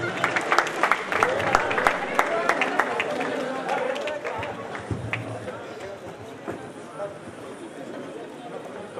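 A crowd claps at a university freshers' party, thick at first and then thinning into scattered claps, with chatter and speech over it.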